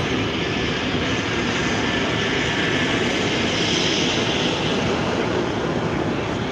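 Eastern Bloc jet warbird roaring through a flying display at the Illawarra air show, a loud, steady broadband jet rush that holds for several seconds with no voices.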